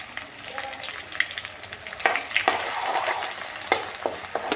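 Garlic fries in hot oil for biryani, a close crackling sizzle with sharp pops and spatters and a few stirring scrapes.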